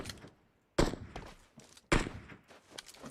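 Two sharp, loud gunshots in PUBG Mobile crack out about a second apart, each trailing off into a short echo, with faint rustling movement in between.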